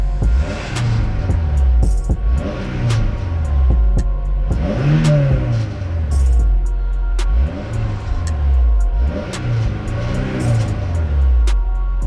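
A car engine with a test pipe in place of the catalytic converter revs repeatedly, rising and falling in pitch in steady cycles, loud and close, with a faint rattling clatter underneath.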